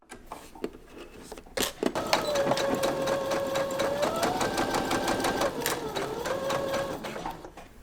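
A sewing machine stitches a dart in fabric, running in one steady motor-driven burst after a few short clicks and handling noises, close and clear with no voices over it.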